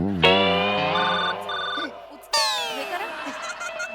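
A telephone rings loudly after a call is placed, with two bursts of a bright electronic ringtone separated by a short gap.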